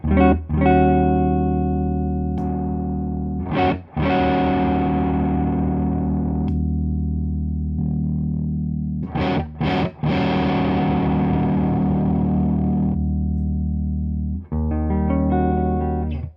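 Electric guitar on the neck pickup through an overdrive pedal plays sustained, warm chords and single notes, each ringing out with a short pause and pick scrape between phrases.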